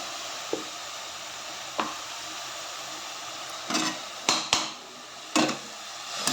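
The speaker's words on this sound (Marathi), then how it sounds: "आता त्याच्यामध्ये मी हिरव्या मिरच्या तीन चारच मिरच्या टाकल्या आता हिरवी मिर्ची लसूण" Green chillies and garlic sizzle steadily in hot oil in a pan. The low, continuous hiss is broken by several sharp clinks and scrapes of a spoon against the pan.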